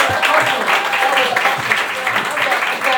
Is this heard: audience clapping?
yes